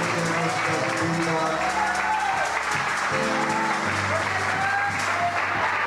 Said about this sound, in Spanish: Hemos de dar un aplauso al que ha hecho toda la diferencia en nuestra vida.